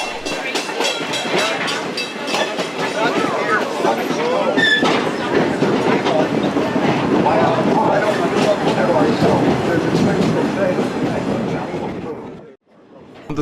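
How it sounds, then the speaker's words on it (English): A diesel electric train rolls through Niles Canyon, its wheels rumbling and clacking steadily along the rails for a long, loud stretch, with voices talking faintly over the noise before it drops away at the end. "We're pulled in the Niles direction by a diesel electric."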